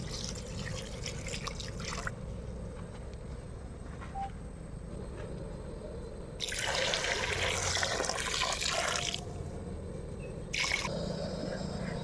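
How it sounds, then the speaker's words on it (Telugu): Water is poured over rice in a pot for chicken pulao. Soft dripping and trickling give way to two louder gushing pours, one lasting a few seconds and a shorter one near the end. "సో ఇప్పుడు ఇందులో మనం 6 గ్లాసులు వాటర్ వేసుకుందాం ఫ్రెండ్స్."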